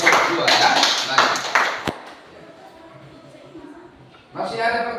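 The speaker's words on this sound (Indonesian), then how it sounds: "Tepuk tangan untuk pertanyaan diberikan." A classroom of students claps for group 2, a burst of mixed clapping for about two seconds that fades into quiet room noise, then voices and movement pick up near the end.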